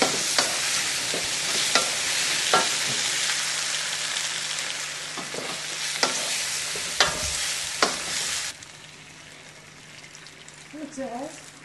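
Stirring a sauce of sesame oil, sherry vinegar and a little water for sesame chicken, with a soft continuous sizzle-like scrape and a few sharp utensil clicks, fading quieter toward the end.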